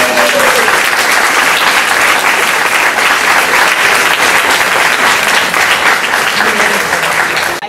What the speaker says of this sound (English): I think we need to give her an outstanding amount of applause for the information she shared with us today.